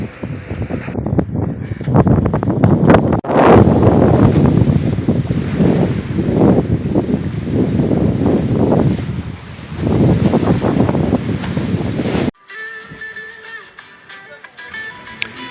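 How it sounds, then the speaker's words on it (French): Loud wind buffets the microphone while ocean waves surge and wash in repeating swells on a Pacific sailboat crossing, then cuts to a quieter boat interior with a faint hum. "le soleil est revenu, mais les vagues aussi, les vagues et le vent"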